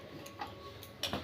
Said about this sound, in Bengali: গ্যাস জ্বালিয়ে নিচ্ছি